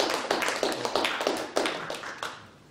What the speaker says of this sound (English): let's give him a round warm of applause